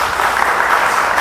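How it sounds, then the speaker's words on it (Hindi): Steady audience applause at a podcast show, a dense continuous patter of clapping hands, loud and close, with no talk over it. "एक बार इनके लिए ताली बजा दो सब जने"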